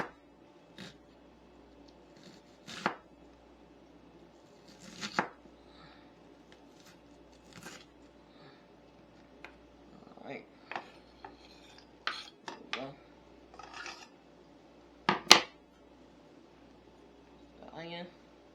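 A knife cuts through a big celery stalk on a board, giving scattered sharp knocks and crisp snaps at irregular intervals against a quiet, faintly humming kitchen.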